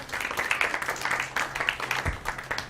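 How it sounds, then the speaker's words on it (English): Applause from the audience at a Sunday temple festival, faint and somewhat distant, with scattered rapid claps rising and falling over a couple of seconds. "Let's give her a round of applause."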